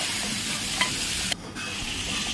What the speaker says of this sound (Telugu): ఆ పేస్ట్ ఆయిల్లో బాగా ఫ్రై అవుతుంది.